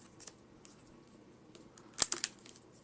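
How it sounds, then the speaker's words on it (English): A Pokemon TCG card deck being shuffled, with soft faint rustling early and a brief cluster of sharp, crisp card riffles near the end, close by with no talking. "let's shuffle it again, shall we?"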